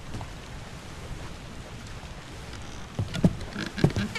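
Steady rain hisses evenly throughout the video game Return of the Obra Dinn, joined near the end by a few louder close knocks and thuds.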